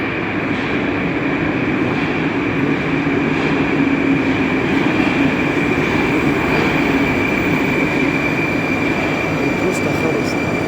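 A Moscow metro train runs at Stakhanovskaya station, a loud steady rumble and roar with a high whine, close and unbroken throughout.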